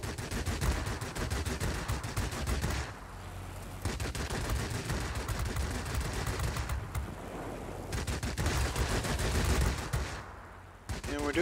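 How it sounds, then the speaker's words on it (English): Rapid machine-gun bursts from a Yak-3 fighter plane in World of Warplanes, loud and sustained, broken by brief pauses between short volleys over a constant engine drone. "Doing short bursts so we don't get our guns too overheated"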